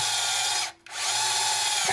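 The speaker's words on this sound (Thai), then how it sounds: "เดี๋ยวทำการเจาะดูเหล็กต้นเสานะครับผมเจาะมือเดียวก่อนนะครับ" A MASARU cordless three-mode impact driver fitted as a drill, held one-handed, bores into a steel post with a loud, steady grinding whine that cuts out briefly near the middle and then resumes.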